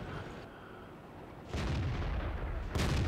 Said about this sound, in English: here comes artillery